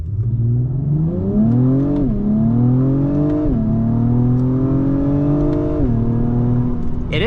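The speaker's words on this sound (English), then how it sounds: "let's floor it from a standstill." A 2024 Acura TLX Type S engine revs hard from a standstill, pitch climbing steadily through several gear shifts, loud and close throughout.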